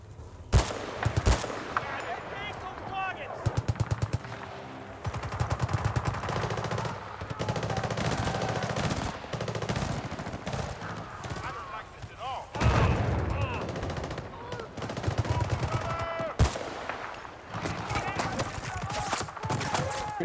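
Rapid bursts of automatic gunfire crackle through a Battlefield 6 multiplayer firefight, with repeated close volleys and sharp single shots over a constant rumble of combat; voices talk intermittently beneath the shooting.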